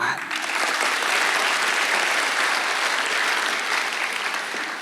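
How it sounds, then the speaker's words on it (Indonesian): A church congregation claps steadily and loudly throughout during a sermon, a dense, sustained wash of hands with no break. "Kasih tepuk tangan."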